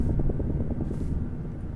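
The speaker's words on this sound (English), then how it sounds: "that does sound exactly like a helicopter going overhead" A video game helicopter passes overhead, a low, rapid rotor thumping that stays fairly quiet and steady for under two seconds.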